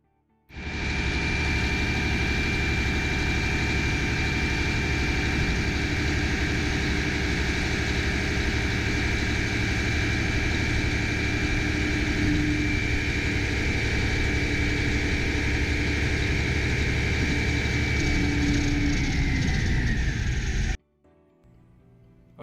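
A 2013 Mack dump truck's diesel engine runs steadily for about twenty seconds at moderate level, with a faint pitch shift near the end before it cuts off abruptly.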